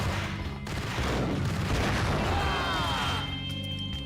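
A grenade blast in the video game Max Payne, a loud booming explosion rolling out over about four seconds with a long rumbling tail and crackling debris, filling the sound alone.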